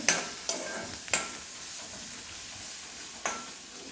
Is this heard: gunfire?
no